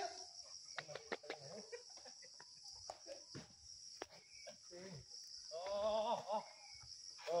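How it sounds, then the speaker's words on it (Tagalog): Chickens cluck and call outdoors on a rural coconut farm in Lopez, Quezon province, with scattered clucks and a louder rooster-like call near the end, heard over a steady high insect drone. "May mga manok oh."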